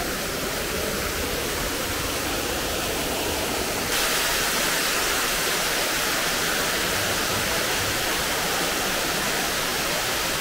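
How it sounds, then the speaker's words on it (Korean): Steady roar of a waterfall at a mud spa in Vietnam, continuous broadband rushing water filling the whole clip, loud and close with no pauses. "와, 이 폭포 소리."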